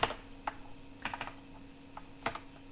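Quiet, close keystrokes on a computer keyboard come in short irregular bursts with pauses between them while someone types HTML code, with no voices.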